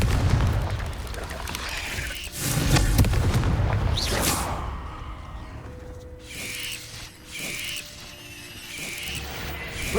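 A Confringo blasting spell erupts in the game Hogwarts Legacy, giving a loud, booming burst with crackling debris. More blasts follow amid game ambience, and a voice speaks nearby.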